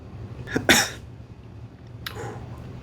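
A person coughs sharply twice close by after sipping bourbon, then gives a softer cough about a second later.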